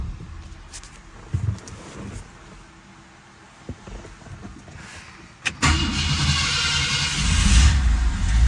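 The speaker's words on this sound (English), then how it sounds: "Fan belt squealing." A 1965 Ford Thunderbird idles and drives with a loud, steady high-pitched squeal from its fan belt, rising sharply partway through as the engine revs, with scattered clunks and road noise underneath.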